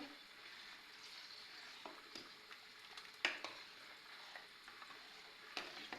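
A spoon stirs frozen manti and chickpeas in a pot of soup, giving soft scraping and light knocks with a few sharper clinks, quiet and close with no talking.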